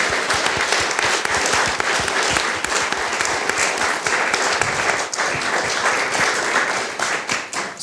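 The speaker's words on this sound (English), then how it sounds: "And let's have a round of applause for the women in Ukraine." A room full of people claps steadily at a fireside chat event, sustained dense applause with individual sharp claps audible, fading slightly at the end.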